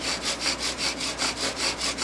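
A bow drill spins a hard, oily drill wood against a basswood board in quick back-and-forth strokes, each pass a rasping scrape, about eight even strokes in close, loud succession with no talking.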